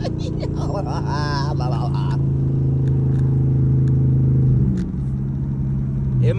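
A Dodge Charger with a swapped, cammed 5.7 engine cruising in second gear, a steady low rumble with a lumpy idle-like pulse running throughout, with someone talking over it from inside the car.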